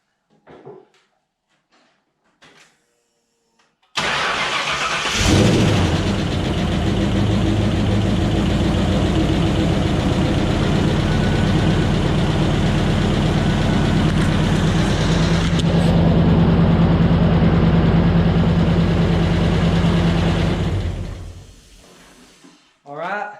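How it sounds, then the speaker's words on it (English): A 1966 Ford F100 truck engine, just reassembled after a frame swap, cranks briefly after a few faint clicks, then catches and settles into a loud, steady, rumbling idle for over fifteen seconds before being shut off. "So now we're going to do the very first crank since I got it all back together."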